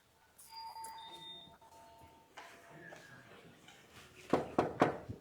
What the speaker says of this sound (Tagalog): Doorbell na tayo.